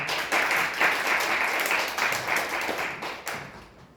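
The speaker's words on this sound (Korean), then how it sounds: "박수로 환영합니다" A conference audience at a Korean media management society event gives a speaker a warm round of clapping that swells quickly, holds for a few seconds, then thins out and fades.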